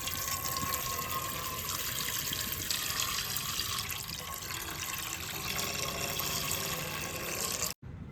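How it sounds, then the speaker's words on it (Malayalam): 500 ml of milk poured into a pan on the stove, a continuous liquid stream with a steady, even splashing rush that cuts off abruptly near the end. "പാല് ഇപ്പം ഞാൻ ഉപയോഗിക്കുന്ന അഞ്ഞൂറ് പാലാണ് അത് ഇതിലേക്ക് ഒഴിച്ച് കൊടുക്കുക"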